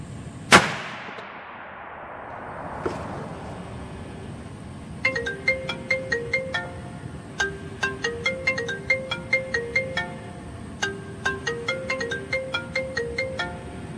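A .308 rifle shot fired while zeroing an ATN X-Sight HD 5x18 scope on paper at 50: one sharp loud crack at the start with a decaying echo, a fainter thump after, then a repeating electronic ringtone melody.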